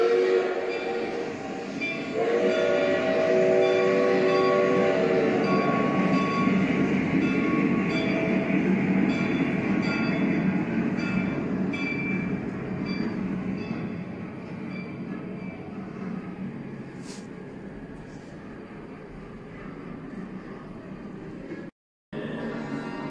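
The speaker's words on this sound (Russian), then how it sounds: "Приехал поезд." A train rumbles and clatters into a station, loud and steady at first, with metallic wheel squeals and faint horn-like tones as it slows, then fading to a quieter hum.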